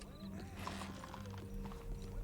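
Horses in the Red Dead Redemption 2 town of Blackwater, with steady clip-clop hooves and a neigh or two over busy town ambience and a constant low hum, no talk.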